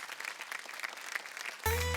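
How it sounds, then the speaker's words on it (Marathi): A studio audience at a Marathi women's game show claps in a brief burst of applause that runs steadily before a sudden musical sting cuts in at the end. "जोरदार टाळ्या"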